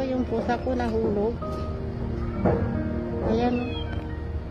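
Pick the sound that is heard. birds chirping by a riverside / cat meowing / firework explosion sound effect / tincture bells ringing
cat meowing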